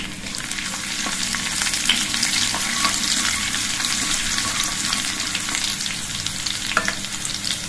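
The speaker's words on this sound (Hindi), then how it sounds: "1/4 चम्मच ये राई है, 8-10 कलियां लहसुन की। इनको अच्छी तरह से भून लेंगे।" Steady, crackling sizzle of mustard seeds and garlic frying in hot oil, close up, with occasional stirring clicks and no voices.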